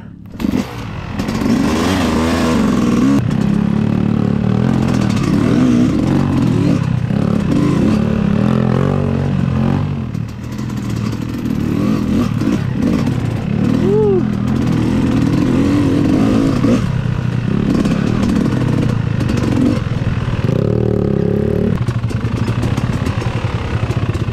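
A motorcycle engine runs loud and close for the whole stretch, a steady throbbing drone with several rising and falling revs.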